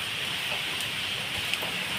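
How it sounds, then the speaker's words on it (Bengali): Soybean pakoras fry in hot oil. The oil gives a dense, even, rain-like sizzle that stays loud and constant throughout, with no voices. "আর আমি দেব না, এগুলো একবার ভেজে নেব।"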